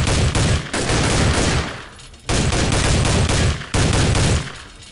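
Gunfire in the video game Soldier of Fortune II: loud, sustained bursts of automatic fire in three long volleys, each ending in a decaying echo before the next begins, with no talk over it.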